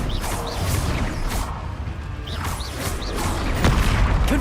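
Confringo fire spells burst in Hogwarts Legacy as a string of crashing, booming explosions with whooshes, several impacts landing back to back at close range, with no talk.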